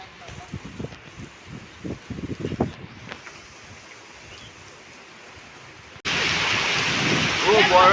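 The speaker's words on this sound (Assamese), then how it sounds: "বৰষুণ দিছে।" Heavy rain during an early-morning run outdoors: a faint background wash under voices and scattered knocks at first, then a sudden, loud, close roar of downpour and wind in the final two seconds.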